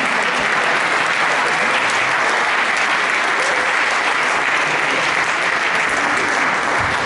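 Loud, sustained applause from an audience for the prize winners at a Bavarian championship award ceremony in Buxheim, a dense continuous clapping throughout.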